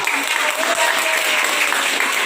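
An audience claps for a teacher being introduced at a gathering, loud steady applause filling the whole short stretch with no pause.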